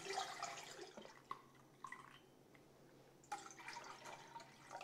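Distilled white canning vinegar of 5% acidity, six cups poured into a pot, a faint close splashing trickle with a few drips and pauses.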